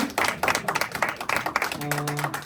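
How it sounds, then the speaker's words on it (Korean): A high school church group claps briefly for new teachers, a short burst of uneven, fairly close clapping with a tone or voice surfacing near the end. "자, 박수!"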